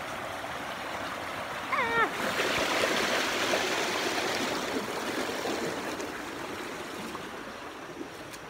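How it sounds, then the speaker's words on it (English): A person wades through a stream on a trail leading to a waterfall, the water steadily rushing and splashing close by, with a brief bird chirp near the start. "I have to go through some water that I can't see how deep it is"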